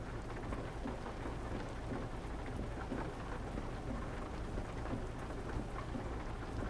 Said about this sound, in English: I'm still hearing that's some nice rain.